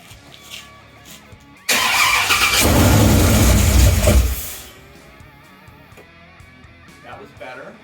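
A Vortec 8.1 V8 swapped into a Squarebody Chevrolet Suburban, run without a cooling system, cranks and fires into a loud, rough run for about three seconds, then shuts off abruptly; quiet voices murmur before and after.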